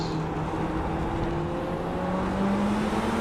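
A race car engine drones steadily during a kart-style race, its pitch gradually climbing as it pulls through a corner run, loud and close with no talking.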